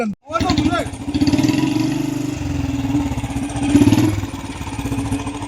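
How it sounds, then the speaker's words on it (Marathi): A Royal Enfield Bullet motorcycle engine idles and revs with a deep, throbbing thump, close and loud, a brief pop at the start. "हे बघा, तर बुलेट चालवतोय"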